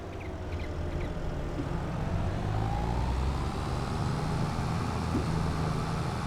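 Steady engine drone of traffic cars driving past on a road in Farming Simulator 22, a continuous low rumble with a passing whine, no talk.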